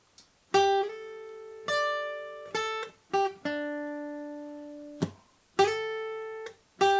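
Electric guitar plays two lead lines back to back, a phrase of plucked notes and slides with long held tones and brief gaps, clean and close, no speech.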